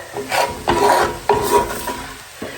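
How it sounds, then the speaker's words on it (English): Spatula stirring flour and onions in a hot pan for hamburger steaks: rhythmic scraping strokes, about four distinct pushes across the pan with a soft sizzle underneath, close and fairly loud, no speech. "just keep moving the flour and onions around the pan"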